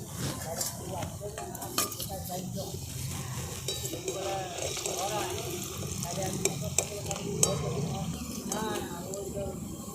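Moong dal nimki frying in oil, a steady low sizzle with occasional utensil taps and scrapes, heard under a person talking.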